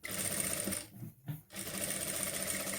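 A sewing machine sews reinforcing reverse stitches on a sensory duck toy, running steadily, pausing briefly to switch direction, then running on at close range.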